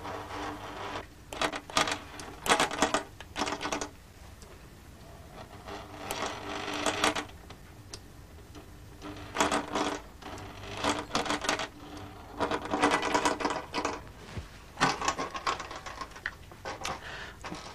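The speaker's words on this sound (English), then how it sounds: "I think you can see the stepper motor moving the needle in" A sewing machine needle driven by a stepper motor runs in repeated bursts of rapid mechanical clicking and whirring, stopping and starting several times. The sound is close and moderately loud.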